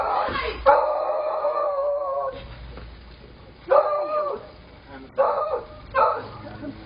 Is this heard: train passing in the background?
no